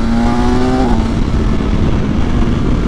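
A BMW S1000XR sport-touring motorcycle engine hums steadily while riding, its tone dropping partway through as the revs fall, with loud wind rush throughout and no talking.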